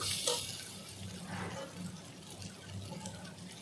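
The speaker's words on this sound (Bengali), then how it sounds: "দিয়ে দেবো এবার জল" Water poured into a pan of Bengali curry with fish and taro, a soft steady splashing and trickle close by that fades into the light bubbling of the pot.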